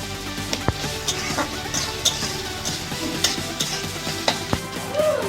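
Freshwater snails (gedi) frying in oil with salt and turmeric crackle in a pan, with a steady close sizzle and repeated sharp clicks and taps of shells and a stirring utensil.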